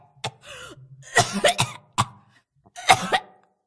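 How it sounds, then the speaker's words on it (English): A pony coughs in the dark, a few short, rough bursts spread over several seconds, moderately close against a quiet background with no talk. "In the darkness, some pony coughed."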